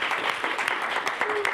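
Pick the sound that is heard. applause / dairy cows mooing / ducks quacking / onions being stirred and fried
applause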